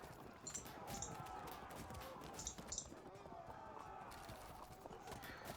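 Light horse cavalry hooves in the Field of Glory II strategy game, a faint, rapid clip-clop of running horses with occasional whinny-like tones, continuing steadily in the background.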